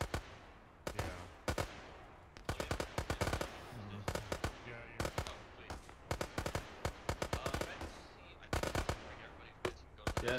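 Rapid bursts of automatic rifle and machine-gun fire in a combined-arms battle in ArmA 3, sharp cracks in clustered volleys with short gaps, fairly close, with faint voices underneath.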